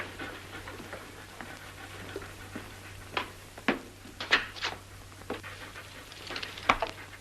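An old dog pants softly nearby, with quick breathy huffs and faint shuffling over a low steady hum, growing a little more active toward the end.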